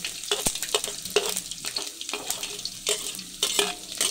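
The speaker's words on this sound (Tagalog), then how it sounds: "Sige, igigisa natin unahin natin yung sibuyas mga kapampam." Onions sautéing in cooking oil, with a steady sizzle broken by frequent scraping and stirring clatters of a utensil in the pan, close and moderately loud, with no talking.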